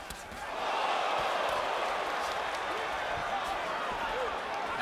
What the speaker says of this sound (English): That exchange gets a rise out of the crowd here in Atlantic City